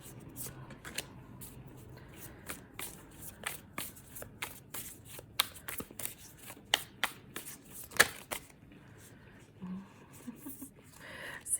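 Tarot cards shuffled and flipped in a deck, a long run of crisp riffling snaps and flicks at close range with a soft voice murmuring faintly in the background.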